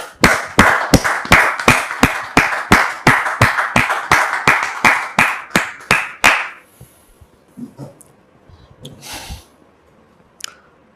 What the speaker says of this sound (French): Recevons maintenant le frère Philippe sous vos applaudissements.